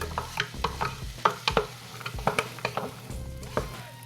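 Oil, onions, potatoes and celery being stirred together in a pot for celery soup, with a quiet sizzle and a series of spoon scrapes and knocks against the pot in an uneven rhythm, close up with no talking.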